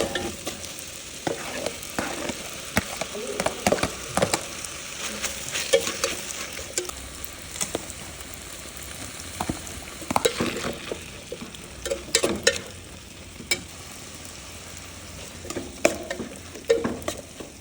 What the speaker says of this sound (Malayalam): പിന്നെ കുറച്ച് ഉപ്പും ഇട്ട് വഴറ്റിയെടുക്കാം